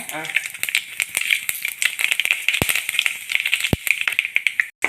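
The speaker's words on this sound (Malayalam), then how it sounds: "കടുവും ഉലുവയെല്ലാം നന്നായിട്ട് പൊട്ടി തുടങ്ങിയിട്ടുണ്ട്" Mustard and fenugreek seeds spluttering in hot oil for mango-ginger pickle: quick, irregular sharp pops and crackles over a steady sizzle, with a couple of louder snaps.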